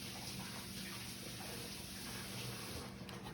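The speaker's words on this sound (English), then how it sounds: "I'm gonna wash my hands real quick" Tap water runs steadily as hands are washed at a kitchen sink during Thanksgiving dinner preparation, a continuous soft broadband rush with no talking over it.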